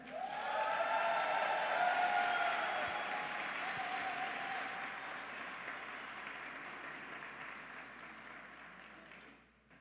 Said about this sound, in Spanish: quisiera que recibiéramos con un fuerte aplauso a nuestro amado pastor Daniel Purata